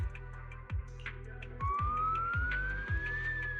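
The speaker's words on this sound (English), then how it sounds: "the faint sound of sirens can be heard nearby" A video game siren wails with a rising pitch, heard at a distance over a steady, rhythmic low thumping.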